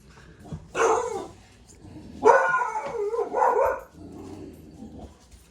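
A few dogs bark in two short bursts, one near the start and a longer, louder cluster midway, with quieter whines and yips trailing off at the end.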